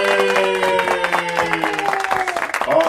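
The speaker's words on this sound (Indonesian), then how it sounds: "Ayo, tepuk tangan dulu buat joget." An audience at a Sunday church children's service claps in a lively burst, with dense applause mixed with tonal background sound and some voices.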